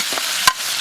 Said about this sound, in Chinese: 锅里倒一点油，油后下入葱姜蒜干辣椒，把腌猪肉先炒一下，